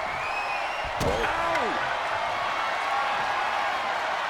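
An arena crowd in the WWE 2K24 video game, during an Undertaker versus Umaga casket match, keeps up a steady roar, broken near the start by a heavy slam and a pained shout.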